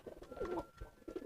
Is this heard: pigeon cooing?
yes